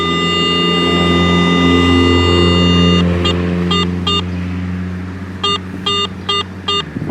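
An AT Pro metal detector holds a steady electronic drone, then drops away into a series of short, repeated beeping target tones in quick pairs and groups.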